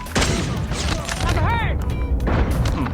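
Shots from an SP-R 208 marksman rifle ring out in Call of Duty Mobile, loud, close booms over constant game noise, with a whistling sweep between them and some vocal sound mixed in.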